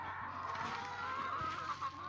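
Chickens cluck softly in the background amid steady outdoor ambience, with a low, continuous murmur of calls and no talking.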